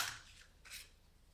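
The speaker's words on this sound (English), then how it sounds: "And all you do is cut out your poinsettia." Scissors snipping a poinsettia shape out of lightweight card for a 12th-scale miniature flower: two short, crisp cuts, close and quiet, with no voices.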